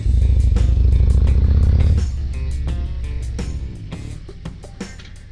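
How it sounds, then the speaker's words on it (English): A 2023 Harley-Davidson Road King Special with the 114 engine rumbles loud and close, a heavy low idle that steps down in level partway through, with brief clicks and rattles over the steady throb. "This is a pretty nice bike. Road King Special. I love the sound."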